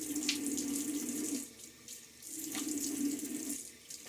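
Tap water running into a sink while shaving lather is rinsed off: a steady, moderate gushing stream that briefly thins and shifts twice as hands move through it, close and without talk.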